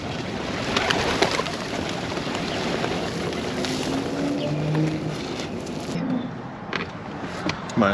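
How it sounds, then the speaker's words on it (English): Pigeons or doves cooing softly in a low, repeating murmur while being fed outdoors, heard over steady broadband background noise like water or a passing boat. "Meanwhile, I gotta feed these birds."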